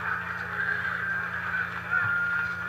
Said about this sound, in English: It's a talking bird.